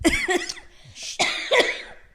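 A few harsh coughs, close and loud, in quick bursts with short pauses between them.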